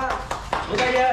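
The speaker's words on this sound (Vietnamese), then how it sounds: "Vỗ tay, vỗ tay, vỗ tay, vỗ tay, vỗ tay." Brief burst of hand clapping at a family birthday celebration just after candles are blown out, a few quick claps mixed with a voice and tonal chatter over it.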